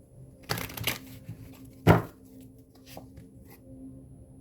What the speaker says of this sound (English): I'm going to shuffle these again.